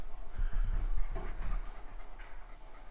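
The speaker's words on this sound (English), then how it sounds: "he's panting" Wyatt, a dog stressed by a thunderstorm, pants close by in quick, rhythmic breaths that are breathy and moderately loud, with low rumbling underneath.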